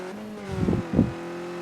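Skip Barber race cars in a KartSport eSeries sim race at Phillip Island hold a steady engine tone. Two short, throaty bursts of revving swell up close over the drone.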